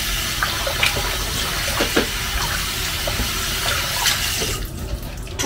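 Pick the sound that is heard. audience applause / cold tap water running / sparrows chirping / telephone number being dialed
cold tap water running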